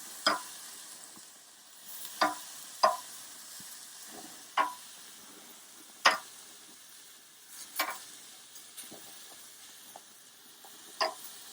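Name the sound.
chicken of the woods mushrooms frying in a pan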